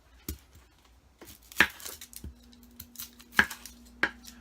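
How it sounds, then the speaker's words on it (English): A knife cuts through an onion on a board: a few sharp, separate chopping knocks spaced irregularly, close and fairly quiet, with a faint hum beneath. "So you make a little incision like that and you just cut right through."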